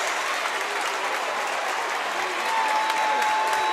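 A crowd at a high school basketball regional final cheers and applauds continuously. The dense clapping and shouting fill the gym at an even level, and a few whistles rise toward the end.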